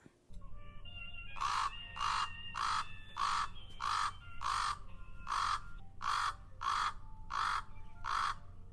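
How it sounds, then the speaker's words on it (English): A common raven gives a series of about eleven rasping, throaty croaks, evenly spaced and fairly loud against a quiet outdoor background, with no one talking. "There's that raspiness of the raven."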